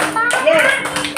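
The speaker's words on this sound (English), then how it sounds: "Give good clap to Lahari." Kindergarten children in a phonics class clap for a classmate, a brief burst of close, crisp hand claps heard under an adult speaking.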